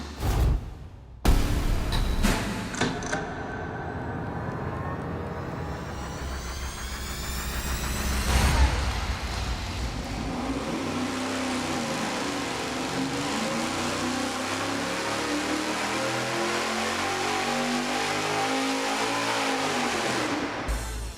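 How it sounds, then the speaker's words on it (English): A supercharged engine fitted with 1 3/4 inch headers runs on a dyno: it fires up, revs sharply, then pulls in a long rising sweep, loud and close, with no voices. "Now we're gonna run the 1 3/4 inch header with the supercharger."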